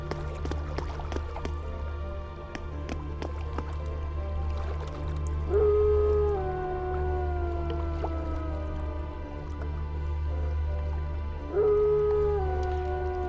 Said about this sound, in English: Red just howls in pain